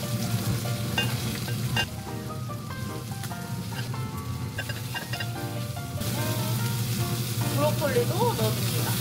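Garlic and beef frying in a pan for pasta sizzle steadily and loudly up close, with scraping stirring and faint background music running underneath and no voices.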